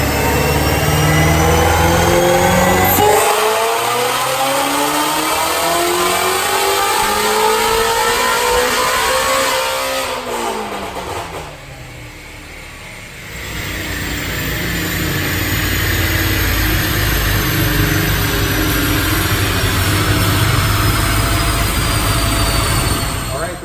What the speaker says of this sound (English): I'm gonna get that blue car in here, make a pull.